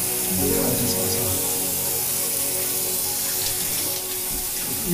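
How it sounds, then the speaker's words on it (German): Cold water gushes steadily from a tap, a loud, continuous splashing rush that fills the whole stretch with no pauses. "Kaltes Wasser."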